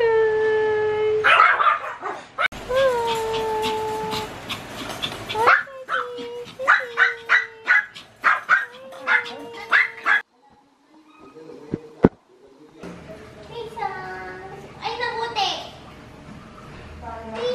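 Several dogs bark, yip and howl in quick, irregular bursts, fairly close and loud, with a voice and other chatter mixed in around them.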